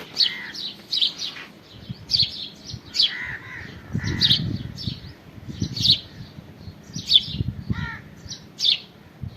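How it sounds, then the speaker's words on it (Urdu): Sparrows chirp in short bright bursts in the early morning during rain in a village, calls repeating every second or so, fairly close, over a soft low patter of background noise. "آپ کو یہ چڑیوں کا چہچہانا بھی سنائی دے رہا ہوگا۔"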